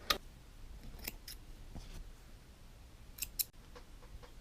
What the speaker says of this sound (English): Cut your threads.